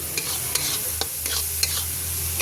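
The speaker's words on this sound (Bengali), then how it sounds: "এরপরে আমি জিরেটাও দিয়ে দিলাম দিয়ে একটুখানি কষি নেব" Cumin and spices frying in a pan for a fish curry with vegetables, giving a steady close sizzle broken by several quick scrapes and clinks of a spoon against the pan, with no voices.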